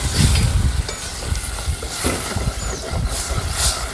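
Potato curry simmering and sizzling in a pan in a home kitchen, with steady low bubbling, frying crackle and occasional stirring scrapes, fairly close and continuous.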